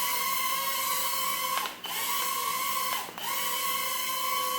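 Tiny motors of a CSJ-X3 toy drone buzz in a steady high-pitched whine while it flies, dipping twice briefly as it flips, then returning to the constant drone.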